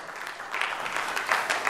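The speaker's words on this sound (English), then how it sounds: "Clap your hands and say amen." A church congregation claps their hands during a sermon, a dense wash of applause that swells louder partway through and keeps going steadily to the end.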